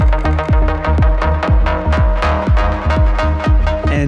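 Melodic techno synth lead playing a bright, resonant line over a pounding four-on-the-floor kick, loud and driving with evenly pulsing beats and no voices.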